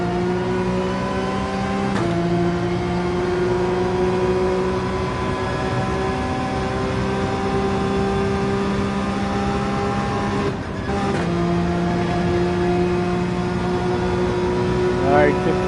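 A race car engine in Gran Turismo 7 on the Dragon Trail circuit drones loud and steady, its pitch climbing smoothly, with a gear change near the start and a brief lift near the end.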